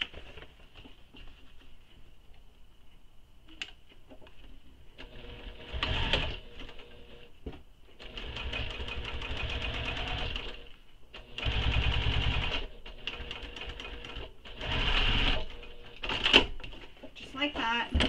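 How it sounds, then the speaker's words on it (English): A sewing machine top stitches a tote bag seam in several bursts of steady mechanical whirring, separated by pauses, with clicks and handling noises in between. "We're going to top stitch this seam."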